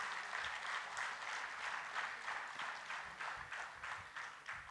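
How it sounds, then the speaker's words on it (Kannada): Sustained applause from an audience at an LIC of India achievers' gathering in Mangalore, a dense, even wash of many hands clapping that carries steadily from start to finish, with no talking over it. "ಜೋರಾಗಿ ಚಪ್ಪಾಳೆ ಮುಖಾಂತರ ಒಂದ್ಸಲ ಚಾರ್ಜ್ ಅಪ್."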